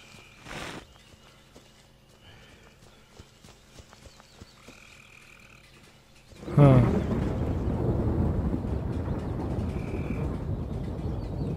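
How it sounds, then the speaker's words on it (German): Thunder rolls in the game Miasmata, starting as a sudden loud crack and settling into a sustained low rumble that carries on to the end, after a quieter stretch of forest ambience. "es gewittert schon mal"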